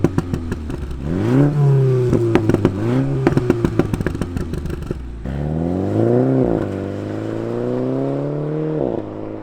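Revving 2015 Mini Cooper S engine breathing through a PLM axle-back exhaust, loud and close, climbing in pitch through repeated blips with crackling pops between throttle stabs, then a longer steady rev.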